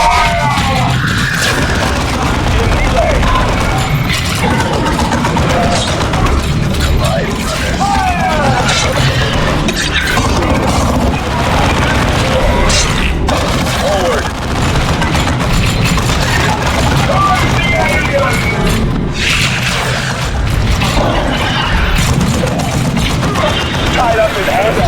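Warhammer 40,000 Dawn of War II battle with guns opening fire: continuous loud rumbling booms, clattering shots and heavy engine drone over about 25 seconds, with voices calling out among the combat.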